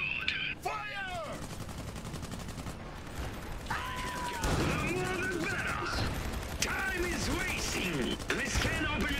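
Gunfire rattles through a battle in Iron Harvest, a real-time strategy game, with repeated close cracks and bursts from an online match. Voiced unit callouts and chatter run over the shooting.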